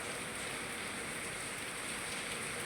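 Heavy rain pours down in a steady, dense hiss of drops hitting surfaces, continuous and even throughout with no pauses, close and enveloping.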